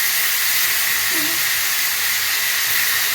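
Meat sears in a hot pot with a loud, steady hiss that holds from start to finish, and there is a faint brief clink partway through.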